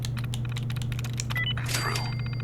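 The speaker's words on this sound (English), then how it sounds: "If Allie can stop typing on the computer." Rapid clacking keystrokes on a computer terminal keyboard in Fallout 4 rattle out steadily over a constant low game hum, followed by a brief whooshing electronic sweep.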